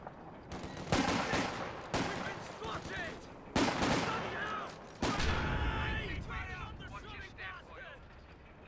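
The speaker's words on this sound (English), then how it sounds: "Oh, nice grenades on the approach." Company of Heroes 2 battle with gunfire and grenades: loud bursts of rifle and machine-gun fire that start abruptly several times, mixed with explosions, while someone talks over the action.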